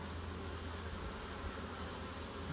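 Honeybees buzz around hive colonies on an early spring day, a steady, dense hum that holds evenly throughout with no talking.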